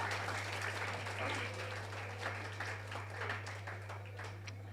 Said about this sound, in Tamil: இன்னொரு முறை உங்களுடைய பலத்த கரவொலியை கேட்க வேண்டும்.